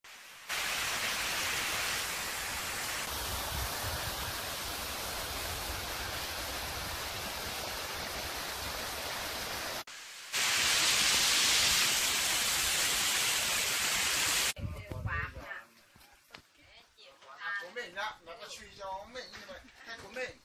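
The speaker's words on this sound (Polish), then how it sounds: "Idziemy na wodospad." A waterfall in Mai Chau, Vietnam, where people bathe in the pool below, gives a steady rushing roar for about fourteen seconds before it fades and voices take over, talking nearby.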